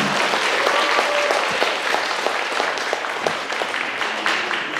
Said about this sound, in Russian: Спасибо большое за игру, спасибо большое за аплодисменты.